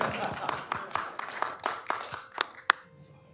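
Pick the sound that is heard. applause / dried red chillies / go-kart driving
applause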